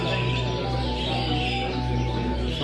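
A hall at a bird show full of caged songbird breeds, fiorinos among them, chirps and twitters continuously beneath a loud, constant droning hum of background noise.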